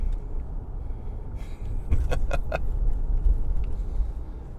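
A car drives along a road by the water at night, giving a steady low rumble of engine and road noise throughout, with a few faint clicks and rattles inside the cabin.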